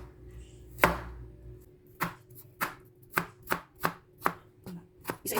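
A knife slices through chayote on a cutting board, about ten crisp, distinct chops at a steady, slightly uneven rhythm, close up with nothing else heard.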